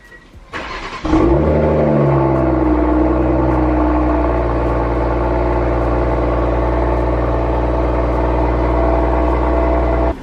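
A BMW M340i cold start: a short whir and catch, then the engine flares loudly and settles into a steady, high, rumbling idle that holds for the rest, close by, with no talk.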